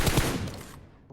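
Gunfire in the PUBG Mobile battle royale game, a short burst of rapid shots that cuts off abruptly, loud and close, with no voices.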